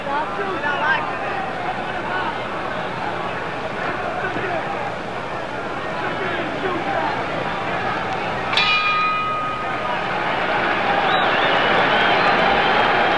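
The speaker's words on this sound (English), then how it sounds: "the bell in 10 seconds" A single struck boxing ring bell clangs near the end of the second round of the 1963 Muhammad Ali vs Doug Jones heavyweight fight at Madison Square Garden, ringing out bright and brief over a steady roar of the arena crowd.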